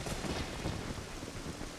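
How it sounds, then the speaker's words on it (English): Steady rain falls in Kakariko Village in The Legend of Zelda: Ocarina of Time, a soft, continuous hiss of downpour with low rumbling underneath, even and unbroken throughout. "It's also raining in Kakariko, and this is like the only time it's actually going to be raining like this."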